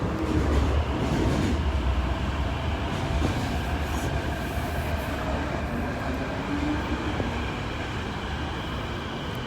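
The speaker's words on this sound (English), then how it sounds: "Is that a C train?" A Hong Kong MTR train passes nearby at Ngau Tau Kok Station with a loud, continuous roar of wheels on track and a faint squeal rising now and then.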